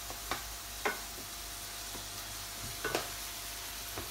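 Tomato thokku sautéing in oil in a pan, a faint steady sizzle with a few soft stirring clicks and taps scattered throughout, no voices.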